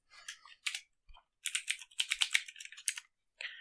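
Quick bursts of keystrokes on a computer keyboard as a file name is typed, close and crisp, with short pauses between runs of clicks and no talking.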